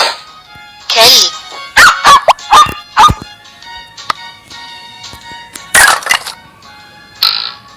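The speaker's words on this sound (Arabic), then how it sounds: "كلب." A dog gives several sharp, close barks and yips in an uneven cluster, then pauses before a couple more loud barks.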